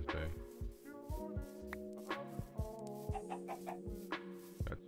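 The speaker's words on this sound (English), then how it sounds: "Look at all these chickens." Chickens in the video game Minecraft clucking repeatedly in short overlapping bursts, fairly close, with several birds calling one after another.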